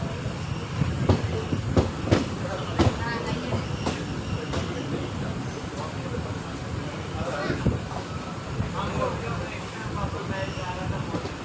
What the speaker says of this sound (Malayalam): സ്റ്റേഷൻ ട്രാക്ക് മാറുന്നത്